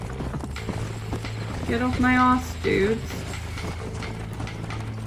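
Horse hooves clip-clopping in the video game Red Dead Redemption, a steady trotting beat with game mechanism sounds, under a voice speaking briefly.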